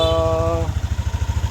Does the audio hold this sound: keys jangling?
no